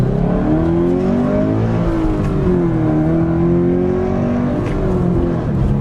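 A Toyota car's engine is driven hard in a sustained, loud run, its rising and falling harmonic drone steady and close for several seconds with no talk.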